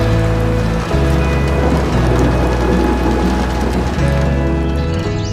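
Heavy rain pours at Hillan waterfall in Haveli, Azad Kashmir, a dense, close, continuous patter with low rumbling underneath throughout.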